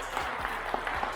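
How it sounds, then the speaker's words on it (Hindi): A short burst of clapping from a friends group at its 2022 annual meet, dense and steady for just over a second with a low hum underneath. "तो हमारे क्लोजर ग्रुप का एक मोमेंटो मनीष के लिए और तालियां।"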